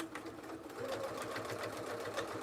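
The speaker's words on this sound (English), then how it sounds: "So I'm going to stitch with a 1/4 inch seam allowance away from that" A sewing machine runs in a steady rapid stitching rhythm, sewing a quarter-inch seam along a folded fabric edge; quiet and continuous.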